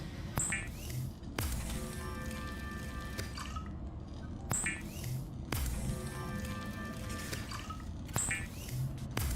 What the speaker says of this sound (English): I really don't like the fabricator sounds.